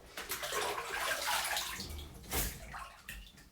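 Water runs into a bathtub to rinse rubber duck toys, a steady close splashing wash with a louder slosh near the middle and no voices.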